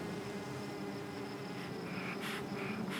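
A dense mass of 30,000 to 40,000 honeybees inside an open hive in the Cévennes hums and buzzes steadily and close, a continuous droning swarm sound with no talk.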